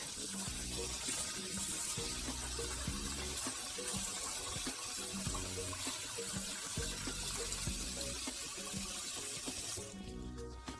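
Rice being washed under running tap water gives a steady, continuous rush of water with rattling grains in a bowl. It holds throughout and ends abruptly near the finish.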